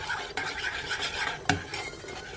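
Drinking chocolate powder being stirred into a mixture in a pot, a continuous scraping and swishing with one sharp clink of a utensil against the pan midway.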